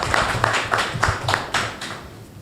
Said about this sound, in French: je voulais qu'on les applaudisse tous